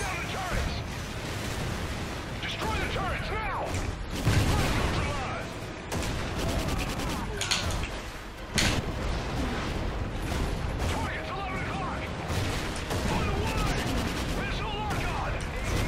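Machine gun fire against giant AA turrets in the Call of Duty: Ghosts campaign mission "Severed Ties": dense, loud, continuous bursts of gunfire and explosive impacts with little let-up, layered under game voices.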